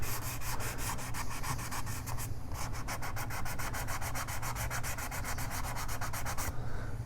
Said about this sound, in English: And get that sanded nice and smooth.